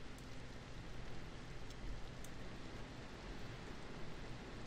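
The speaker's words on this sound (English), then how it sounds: "Oh, it was beautiful, and now it's all raining." Rain in the horror game Layers of Fear, a soft, even broadband hiss of steady downpour with a few faint drip ticks, constant and fairly quiet, without speech.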